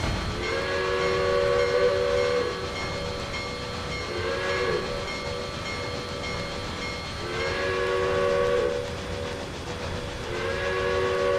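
Automatic steam-style train whistle on a C&O locomotive in the Trainz 2022 railroad simulator, near Hinton, sounding in four long, steady blasts of equal length with short gaps between them. Each blast is loud and close over a quiet rumbling background.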